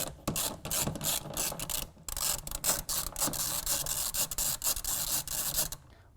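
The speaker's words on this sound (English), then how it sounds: "using a T30 Torx bit, I'm going to go ahead and remove these three factory bolts from their locations" Factory bolts being backed out with a T30 Torx bit during installation of a Truxedo Titanium tonneau cover on a Honda Ridgeline bed rail, a close, steady scraping and ratcheting rasp with brief pauses, no talking.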